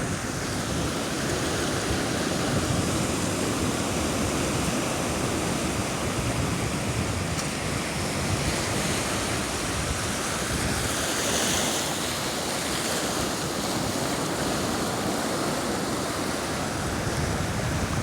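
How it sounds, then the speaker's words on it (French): Ocean surf rolls in continuously, a dense, steady wash of breaking waves with no pauses and no voices. "écouter le chant de l'océan"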